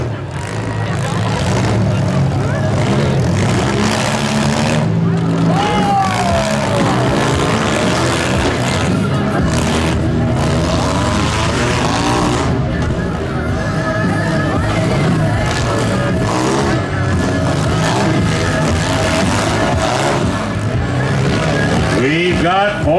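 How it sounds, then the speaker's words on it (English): Junk run demolition derby heat with four cars left: engines roar and rev continuously under a loud crowd and announcer talk, with scattered bangs of collisions. "We've got 4 cars left in this 4th heat."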